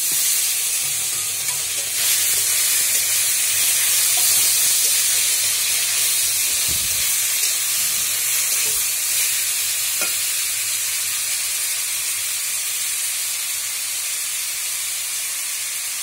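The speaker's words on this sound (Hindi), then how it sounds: "बीच बीच में चम्मच चलाते रहें ताकि चिपके नहीं और ऊपर नीचे अच्छे से चल जाए" Bitter gourd, beans and radish fry in a pan, giving a continuous loud sizzle and hiss, with occasional spoon scrapes and taps as the vegetables are turned, no talking.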